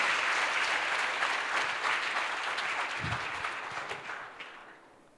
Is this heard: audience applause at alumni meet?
yes